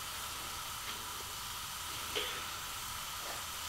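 Burgers frying in a pan, a steady broadband sizzle and hiss running throughout at moderate level, with a few small pops and crackles, no talk.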